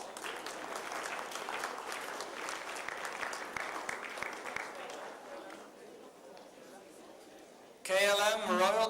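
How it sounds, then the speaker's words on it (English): Audience applause for a company honoree at an evening awards ceremony, a broad steady clapping wash that fades gradually, with a louder burst of sound arriving near the end. "a round of applause"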